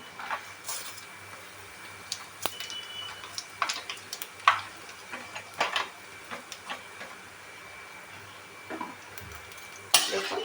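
Ajwain, mustard seeds and panch phoron tempering in oil on a low flame for a jackfruit-seed and water spinach dish, crackling as faint, scattered sharp pops and ticks over quiet background.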